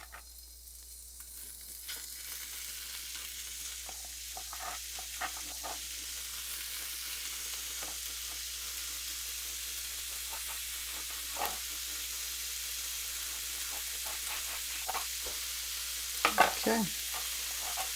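Bacon sizzles steadily in a pan for carbonara, a constant broadband frying hiss with occasional crackles and a few louder spatters and clinks near the end; one brief word is spoken.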